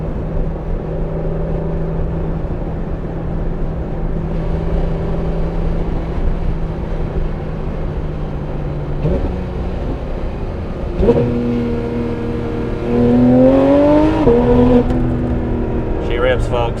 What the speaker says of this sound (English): Let's listen to this PDK a little bit for this motor.